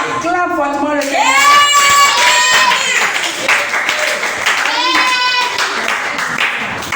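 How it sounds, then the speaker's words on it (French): A church congregation loudly acclaims the Lord, voices rising in sustained shouts and cries over steady clapping that runs through the whole stretch, with a second swell of raised voices near the end. "Acclame fortement le Seigneur"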